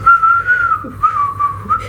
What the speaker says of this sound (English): She started whistling this